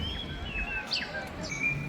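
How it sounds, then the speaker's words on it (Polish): Small birds chirp and tweet in quick, thin, high notes over a soft background hum, in Milan, Italy. "Ptaszki śpiewają."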